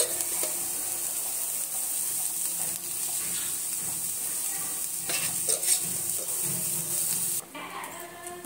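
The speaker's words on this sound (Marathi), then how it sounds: "आपला कांदा हा लालसर भाजवतोय" Onions frying with garlic and ginger in a pan for a spicy drumstick masala, a continuous close sizzle broken by stirring scrapes and clinks, which briefly drops near the end before the frying resumes.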